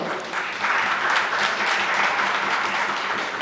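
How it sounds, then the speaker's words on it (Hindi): An audience at a Hindi poetry recital bursts into applause, a dense, fairly close wash of clapping that swells after a moment and holds steady for a few seconds with little else heard. "धीरे धीरे हाथ चलाना, तालियां कमजोर ना हो।"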